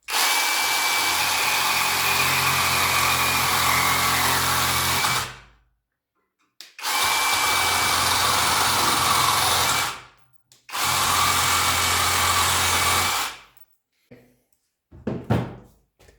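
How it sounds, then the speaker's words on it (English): Parkside Performance PSSAP 20-Li cordless sabre saw with a metal blade cutting metal, three loud sustained buzzing runs of several seconds each separated by brief silences, then short stuttering bursts at the end. "install for the metal the blade."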